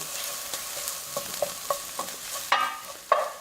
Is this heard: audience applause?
no